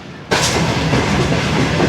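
Inside a coach of the Shalimar Express luxury passenger train, steady loud rumble and clickety-clack of the running train, which swells in abruptly after a quiet moment and then carries on continuously.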